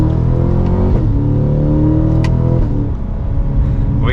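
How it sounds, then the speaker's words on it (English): A 2023 Cadillac CT5-V Blackwing accelerates hard from second gear, its exhaust roaring loudly up through the revs with a few sharp pops and crackles breaking through, heard close from the cabin. "We got some pops in that exhaust"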